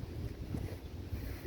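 Steady wind buffets the microphone with a low, rumbling whoosh throughout, no voices heard.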